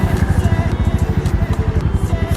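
Royal Enfield Meteor 350 motorcycle engine idling just after starting, a steady low thumping pulse with a fast regular beat, close and fairly loud throughout.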